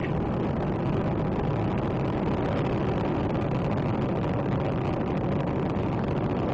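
Space Shuttle Discovery's three liquid-fuel main engines roar during the STS-124 launch, a continuous, dense, broadband rumble that stays steady and loud throughout.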